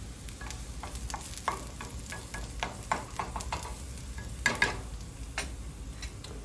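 Diced onions sizzle gently in a pan while a utensil stirs them, giving repeated scraping taps and clicks over a soft, steady frying hiss, fairly quiet and close.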